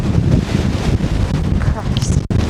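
Strong, steady wind gusting across a winter hillside at Rannerdale Knotts above Buttermere in the Lake District, loud and continuous and buffeting the microphone, with one sudden brief dropout near the end.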